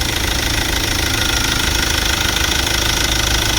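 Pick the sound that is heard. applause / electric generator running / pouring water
electric generator running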